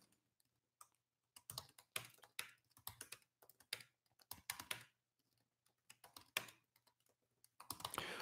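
Computer keyboard keys clack in irregular bursts of quick taps with short pauses, close and fairly clear, as someone writes notes for a book draft; no voices are heard.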